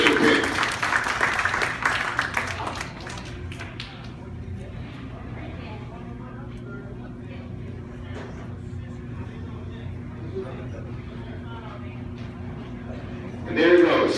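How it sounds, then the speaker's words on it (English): An audience claps for a veteran at a Veterans Day 2016 gathering at the Cranston Senior Enrichment center. A dense burst of applause fills the opening seconds, then fades into a quiet room hum, with a brief swell near the end. "So please a hand of applause for him"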